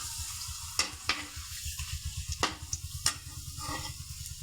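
Papad crackling and frying in very hot oil, a steady sizzle with several sharp pops and bursts scattered through, close and fairly quiet with no voices.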